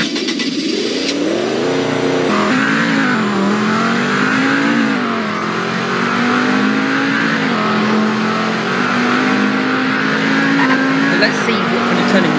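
A car in the Roblox game Greenville drives steadily on grass, its mid-pitched engine droning and rising and falling as it revs, loud and continuous throughout, with someone talking over it.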